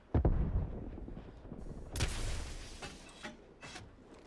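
Gunfire in Black Ops Cold War, a sharp loud shot at the start followed by several further bursts and booms at irregular intervals over a rumbling background.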